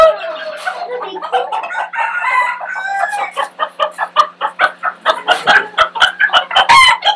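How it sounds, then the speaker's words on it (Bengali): Polish cap chickens, a crested breed, cluck and call repeatedly at close range in a lively, uneven rhythm, with occasional louder squawks toward the end. "এটা হচ্ছে যে পলিশ কেপ প্রজাতির মুরগি"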